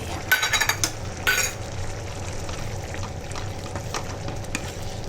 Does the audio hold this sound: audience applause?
no